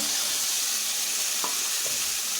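Spiced masala frying as boiled masoor dal for an egg tarka is about to go in, a steady close sizzle with a couple of faint stirring knocks.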